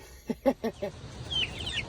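Chickens in a backyard pen clucking, a quick run of four close, loud clucks followed by a higher squawk or two from the flock at lower level.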